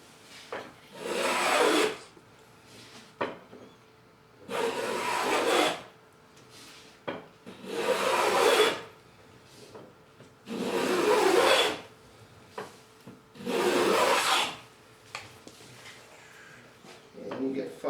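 Wooden molding plane cutting wood and lifting fine shavings: five or six long rasping strokes with short pauses between them, close and fairly quiet, with soft handling knocks in the gaps.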